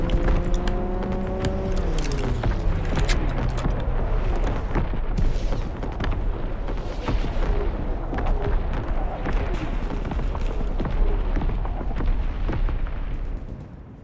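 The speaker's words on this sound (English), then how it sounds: "Incoming enemy artillery." Enemy artillery barrage in a WW2 video game, with loud, dense booms and rumbling explosions that keep up across the whole stretch, under a falling siren-like tone at the start and some talk.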